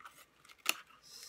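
Scissors trim paper for a circus-themed altered book: a single sharp snip cuts through quietly, with faint rustling of paper before and after.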